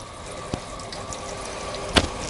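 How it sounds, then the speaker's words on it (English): Tap water runs steadily into a sink as an item is rinsed at an outdoor grilling session, a soft continuous splashing flow with a couple of small clunks. "Let me rinse that off and use it."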